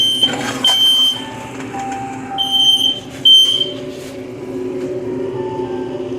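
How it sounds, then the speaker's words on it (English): A smoke alarm goes off while Wagyu chopped cheese is cooking, with high piercing beeps in short bursts and longer tones over the sizzle and clatter of a kitchen. "I guess if the alarm don't go off, you ain't doing it right."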